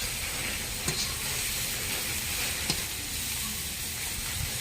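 Egg bhurji sizzles steadily in a hot pan as it is stirred and mixed, a continuous frying hiss with a couple of faint scrape clicks, close and even throughout with no talking.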